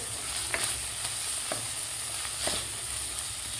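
Dry ground spices, red chili powder and garam masala, sautéing in a pan for khichdi, a soft continuous sizzle with a few light stirring scrapes, close and steady with no talking.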